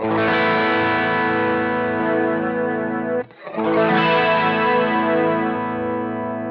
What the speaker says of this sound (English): there is actually a slight increase when we engage the chorus